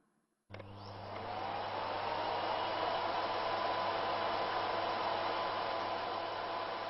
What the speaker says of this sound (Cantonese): Miller S5系列吸塵機，超靜音設計